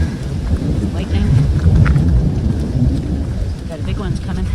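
Thunderstorm on Mount Washington, with heavy rumbling thunder rolling continuously under steady rain close by, the storm loud and filling the whole stretch without pause.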